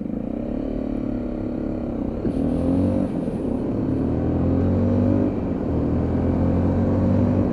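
A Lexmoto LXS 125cc motorcycle hums steadily while riding, its engine note climbing, dipping briefly and rising again as gears change, with wind rush over a loud, continuous drone.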